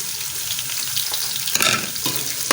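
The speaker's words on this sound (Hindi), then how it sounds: "हम ये बिस्मिल्लाह लहसुन और अदरक का पेस्ट जो है ना वो डालने लगे हैं" Garlic and ginger paste frying in hot oil with browned onions for chicken pulao, a steady close sizzle with a few louder stirring crackles toward the end, no talking.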